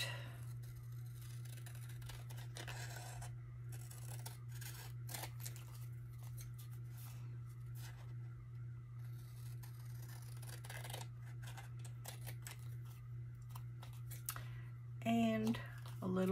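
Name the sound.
cutting a paper sack with scissors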